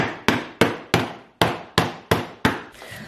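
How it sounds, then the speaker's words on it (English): Hammer blows tapping a lid down onto a dry food storage container, eight sharp, evenly spaced knocks close by with no talking. "I'm going to go get a hammer."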